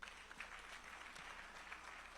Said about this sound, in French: J'aimerais qu'on applaudisse, s'il vous plaît.